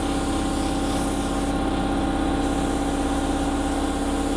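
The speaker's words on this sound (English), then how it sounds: "apologies for the compressor kicking in." An airbrush air compressor runs steadily throughout, a loud, continuous motorized drone with a constant low hum and no talking.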